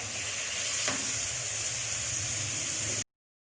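Spicy mutton liver masala fries in a kadhai with a constant close sizzle and a brief stirring scrape, then cuts off abruptly into silence.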